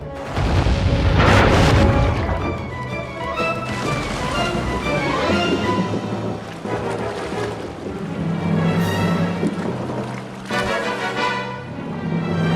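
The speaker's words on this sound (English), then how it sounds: "Load the cannons and prepare to come about." Ship cannons fire in the PS2 game Sly 3: Honor Among Thieves, giving heavy booming blasts over rushing ocean waves and game music. The explosions are loud and repeat through a dense, rumbling mix.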